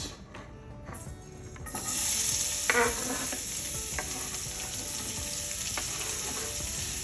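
Onions hit hot oil in a frying pan over medium heat for hilsa dopeyaja, a quiet start that jumps into a steady, close sizzle, with a few light stirring clicks.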